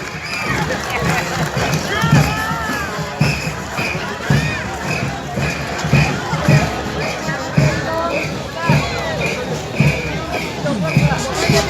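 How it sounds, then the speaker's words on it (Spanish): Spectators at the Huanta carnival clap for the Barrio Central troupe in 2020: a steady, rhythmic beat of many hands under a noisy, bustling crowd and a voice on a loudspeaker. "Vean esas palmas, señoras y señores, para el Barrio Central."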